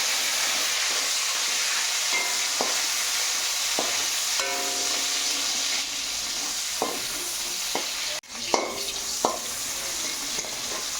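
Onion sizzles and fries steadily in a hot pan during home cooking of a mushroom dish, a continuous close hiss with occasional stirring clatters and a brief louder scrape near the end.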